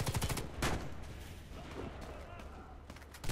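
Warface video game gunfire crackles in quick bursts near the start, followed by fainter shots and game sounds under a speaking voice.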